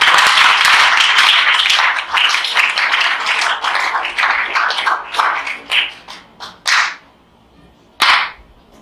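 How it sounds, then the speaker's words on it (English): A school quiz competition audience claps loudly in a dense burst that thins out into scattered individual claps, ending with a couple of sharp isolated claps. "They will need you to support them with your clap"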